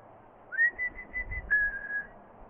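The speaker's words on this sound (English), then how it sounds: "Here's their whistle." A person whistles to call a pack of corgis, giving a few short rising and wavering whistled notes followed by a longer sustained whistle, clear and fairly close in a quiet outdoor setting.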